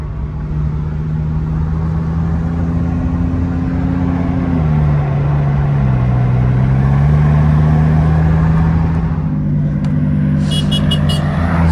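A Lamborghini Diablo SV sports car drives past with a loud, steady engine drone that dips and rises slightly in pitch, close by and continuous with no talking.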